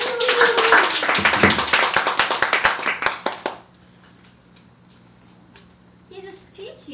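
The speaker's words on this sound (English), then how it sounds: "let's have a big applause to Chris' wonderful speech." A room of people applauds after a speech at a speaking club meeting, dense clapping for about three and a half seconds that then stops abruptly, followed by quiet room tone and a brief voice.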